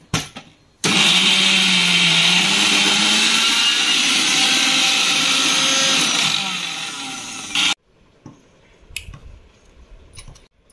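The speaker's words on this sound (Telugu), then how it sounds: "ఇదిగోండి, ఇలా కొంచెం కోర్సుగా గ్రైండ్ చేసుకోండి." A kitchen mixer grinder coarsely grinding coconut, dried chillies and garlic for a spice powder, a loud steady whirring roar for about seven seconds that cuts off abruptly, followed by quiet clatter.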